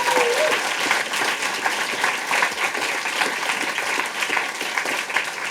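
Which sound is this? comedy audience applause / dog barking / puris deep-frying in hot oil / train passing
comedy audience applause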